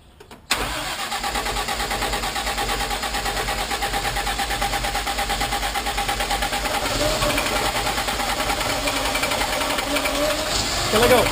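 A cruiser motorcycle engine fires up abruptly after its carburetor float bowls were adjusted, then runs at a rapid, steady idle that grows slightly louder, close to the listener, with a voice partly under the engine.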